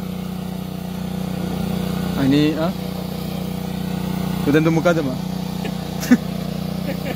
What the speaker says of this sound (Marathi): तर आता दोन ट्रॅक्टरांनी आम्ही नांगरणार।